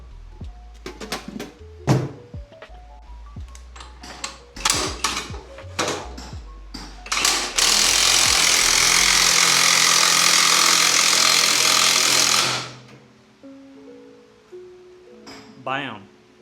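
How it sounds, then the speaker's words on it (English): A workshop clatter of clanks and taps during a Harley-Davidson tire change gives way to a loud, steady power tool whirring for several seconds before winding down. "Grab some power tools."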